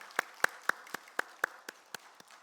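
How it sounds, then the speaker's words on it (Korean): Church congregation applauding in a sparse, steady rhythm of about ten distinct claps, crisp and close, with no talking over them. "우리 아동부들과 또 영광 받으신 우리 하나님께 우리 영광의 박수"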